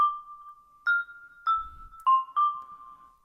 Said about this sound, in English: So if you listen to the bell,